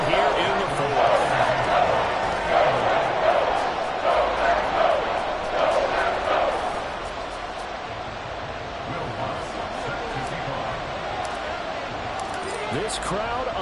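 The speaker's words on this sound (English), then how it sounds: "This crowd alive again" A simulated stadium crowd in Madden NFL 24 roars through a late fourth-quarter Bears vs Packers tie after a Green Bay touchdown and extra point, a broad, steady swell of noise with a game announcer talking over it.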